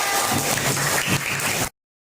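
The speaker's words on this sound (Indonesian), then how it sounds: "Tepuk tangan untuk kita semua." Brief burst of clapping from a classroom group during a teacher peer-supervision session, fairly loud and close, lasting under two seconds before cutting off abruptly.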